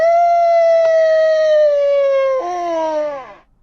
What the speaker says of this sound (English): wolf howl,